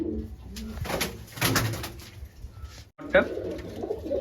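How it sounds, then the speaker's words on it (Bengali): Madras pigeons, a white pair kept for sale, give soft low coos in short repeated bursts at close range, with some handling noise and a brief pause near the end. "অত্যন্ত ভালো কোয়ালিটির পায়রা"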